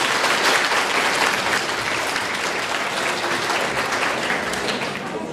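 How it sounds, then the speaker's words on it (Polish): An indoor hall audience applauds at a Christmas carol-singing event, a dense, loud, steady wash of clapping that holds for several seconds and fades slightly toward the end. "zacznijmy od braw dla nas wszystkich"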